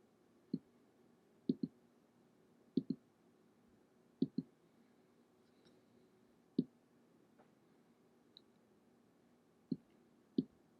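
A computer mouse clicks a duplicate button repeatedly, giving about a dozen crisp, quiet clicks, some in quick pairs, at irregular intervals against near silence.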